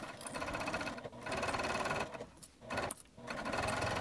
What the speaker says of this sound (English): Just pick a spot to start and top stitch it.